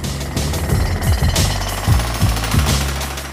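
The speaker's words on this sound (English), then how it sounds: "We had to widen those with jackhammers." Jackhammers break through layers of concrete in a collapsed-building rescue, a loud, continuous rapid hammering rattle with periodic heavier strikes, no voices.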